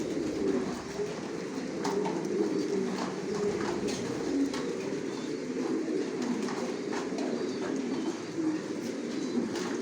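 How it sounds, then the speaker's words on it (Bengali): Racing pigeons in a loft: a continuous, close murmur of many overlapping low coos that rises and falls steadily and never pauses. "সব লংয়ের কবুতর পালি।"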